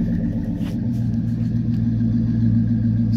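A GMC Yukon SLT engine running steadily at idle after cranking, a close, loud, continuous low rumble with no talking.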